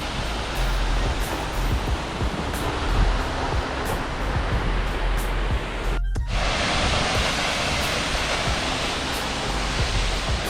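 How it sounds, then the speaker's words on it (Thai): Steindalsfossen waterfall in Norway roars as a dense, steady wash of falling water, loud and close, with an unbroken broadband rush and no voices over it. "มาเดินชมน้ำตกอันนี้นะคะ"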